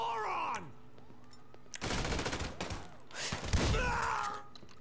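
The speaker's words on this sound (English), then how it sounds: "Did this guy try and shoot me?" Two bursts of rapid gunfire from a video game heist erupt in quick succession, loud and close, with a groaning voice and game sounds around them.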